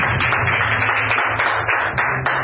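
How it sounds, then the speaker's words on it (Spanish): A church congregation claps hands together in a steady, fairly loud ovation, with sharp, overlapping claps continuing without a break. "Dale un fuerte aplauso a Cristo por esta palabra."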